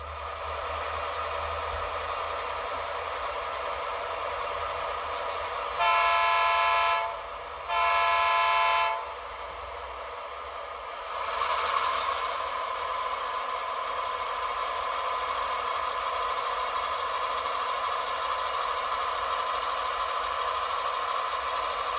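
An HO scale model diesel locomotive runs on a shelf switching layout, a steady electronic engine drone throughout with two loud sustained horn blasts in the middle, followed by a short bell-like burst, no talking.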